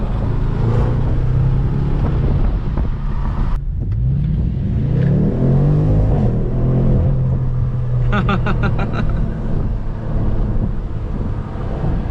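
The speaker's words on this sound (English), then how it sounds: "it sounds more like a supercharger whine than a turbo sound" A tuned 2020 BMW M550i engine runs and revs steadily, with a high supercharger-like mechanical whine riding over the rumble, close and loud throughout, no talking.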